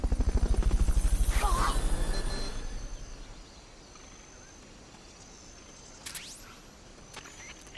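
A helicopter in the video game Metal Gear Solid: Peace Walker thuds with loud, rapid rotor chopping that fades over a few seconds into a quieter hum, with a few brief sharp effects near the end.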